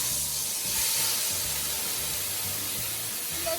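Cooking oil heating in a kadhai, a loud, steady broadband hiss with a faint low rumble underneath, continuous and close for a few seconds.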